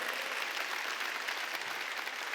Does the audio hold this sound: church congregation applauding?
yes